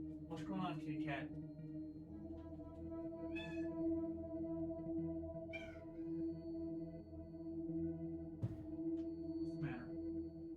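A pet cat meows several times, up close and clear over a steady low hum, in short separate calls with pauses between them.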